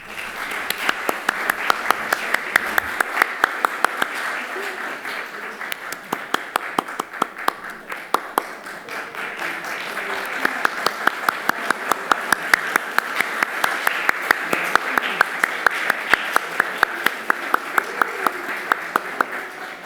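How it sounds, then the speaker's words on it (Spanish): Audience applause at a book launch presentation for a Bach Society magazine, steady clapping from a room of listeners lasting throughout, dipping briefly midway before swelling again, with a faint voice underneath. "Un aplauso para ella."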